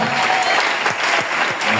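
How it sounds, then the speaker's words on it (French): A loud, dense wall of clapping and cheering from an audience at a religious gathering, continuous and close, with voices mixed into the roar. "Il faut acclamer."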